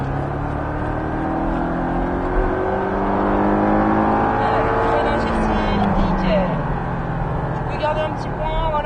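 Porsche 718 Cayman S engine revving hard and accelerating on the Bresse race circuit, a loud sustained engine note with rising harmonics, under an instructor talking.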